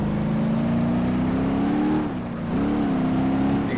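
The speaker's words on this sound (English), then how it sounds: "Hear the differentials opening up." A car engine in BeamNG.drive whines steadily as the differentials open up, dipping briefly in pitch then rising again as it revs under load.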